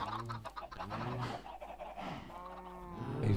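Minecraft chickens clucking in a crowded chicken farm, a busy overlapping chorus of nasal clucks and squawks close by, continuous with no talking.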